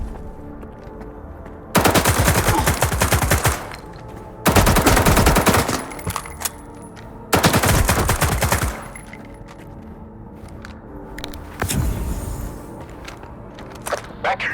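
In the video game Stalker 2: Heart of Chernobyl, loud automatic gunfire rips out in three long sustained bursts a couple of seconds each, followed by a quieter burst, with brief pauses of lower noise between them.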